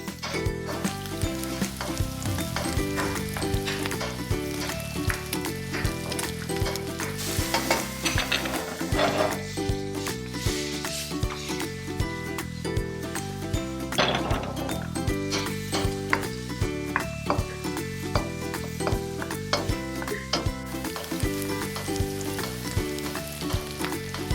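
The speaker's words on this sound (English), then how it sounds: "And you continue to cook the mushrooms until they are tender." Mushrooms sizzle steadily in a hot pan, seasoned with salt and pepper, while a utensil repeatedly stirs and scrapes against the pan, close and continuous with no talking.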